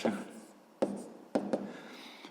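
Pen scratching out handwritten numbers on paper while working a sixth-grade maths exercise, with several short strokes and taps, quiet and close, without talking.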